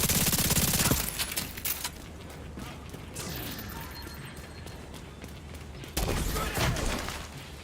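Gunfire in the shooter The Division 2, with a dense burst of shots at the start, scattered distant pops and impacts through the middle, and another loud volley near the end.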